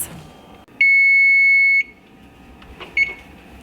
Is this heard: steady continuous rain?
no